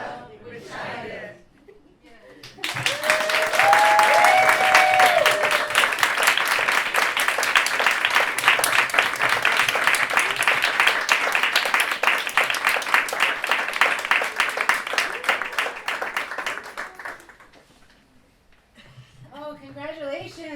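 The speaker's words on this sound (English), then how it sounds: "More applause for our first ever storytellers here in Lannon, Wichuda, Tang, McConnell." Audience applause for storytellers at a live storytelling event, a long burst of dense clapping that rises after a brief voice, holds steady for about fifteen seconds, then fades before talk resumes.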